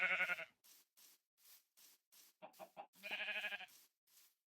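Sheep in the Minecraft video game bleat again and again, a series of short, close, fairly loud baas at an uneven rhythm, with no talk over them.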